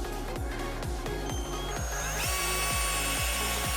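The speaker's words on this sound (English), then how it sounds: "Drill a hole somewhere next to it and hope that it works." A power drill bores a hole into a Mazdaspeed 3 headlight housing, running in short repeated pulses with a rhythmic motor whine that rises in pitch near the end, loud and close.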